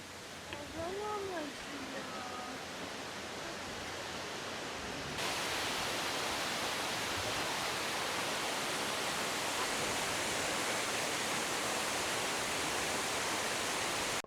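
A waterfall in Adjara roars as a dense, unbroken rush of broadband noise, steady and loud, growing fuller partway through, with a faint human voice early on.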